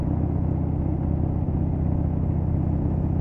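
Road vehicle's engine and tire rumble on an interstate highway, a loud, steady drone close up as it picks up speed, with no talking.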